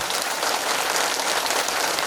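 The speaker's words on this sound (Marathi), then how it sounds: "आपण अगदी हात वर करून टाळ्या वाजूया" Steady, dense clapping from a crowd of village women gathered at a seed distribution event for flood-affected farmers, with hands raised high; sustained and fairly loud throughout, without any talking over it.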